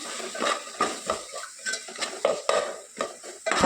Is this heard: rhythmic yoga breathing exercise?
no